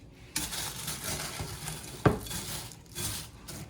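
Kitchen bowls clatter and knock together while someone searches for a bigger one, with a sharp clink near the middle amid softer shuffling; no talking.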